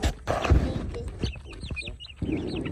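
Chickens and roosters cluck and chirp close by in a farmyard coop, a busy overlapping chatter of short calls with rustling.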